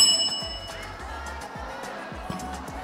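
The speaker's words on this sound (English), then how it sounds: "When the time is up, she will hear this bell." A pageant timer bell rings briefly at the start to signal that a contestant's answer time is up, then fades into a faint murmur of hall noise and distant voices.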